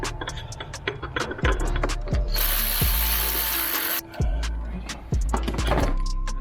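A hand ratchet clicks rapidly as it tightens the bolts on a car's oil filter housing, close and loud, with a longer whirring burst in the middle and several short rattling runs.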